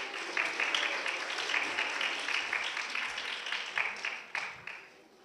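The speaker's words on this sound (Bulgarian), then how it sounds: "Аплодисменти за нея!" A school audience applauds a young second-grade singer. The clapping is moderately faint but steady, with a few sharper individual claps standing out as it gradually tapers off.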